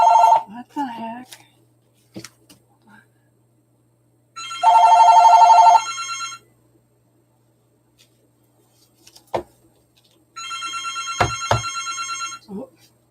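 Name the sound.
telephone ringing, phone not muted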